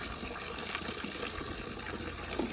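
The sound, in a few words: water being filled into a container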